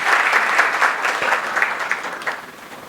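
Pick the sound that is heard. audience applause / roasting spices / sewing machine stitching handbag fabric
audience applause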